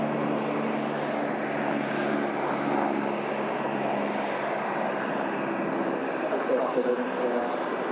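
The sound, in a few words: light aircraft flying over near Manchester Airport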